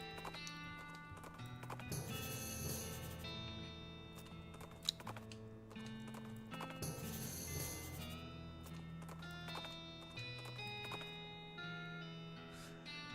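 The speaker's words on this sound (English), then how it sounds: "A ghostly translucent bandit on a ghostly translucent horse rides up" Horse hooves clip-clopping in the cartoonish western game West of Loathing as a ghostly bandit rides up, a steady trotting patter heard over layered game music with no talking.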